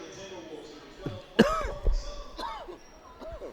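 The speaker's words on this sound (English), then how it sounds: "coughing on the air here" A basketball commentator coughs on air during a girls' high school game, a few sharp bursts close to the mic around the middle, with gym noise and voices talking underneath.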